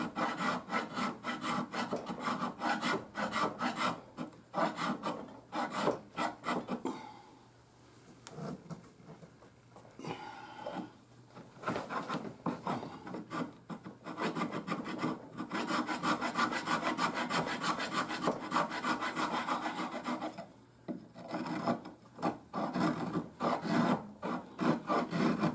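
A quarter-inch float rasps wood inside a hollow plane's escapement in rapid back-and-forth strokes, close and crisp, pausing briefly twice before resuming a steady scraping rhythm.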